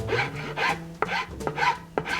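Hand sanding of hardened material on a gun being renovated, quiet, close rasping strokes in a steady back-and-forth rhythm, about four passes in two seconds.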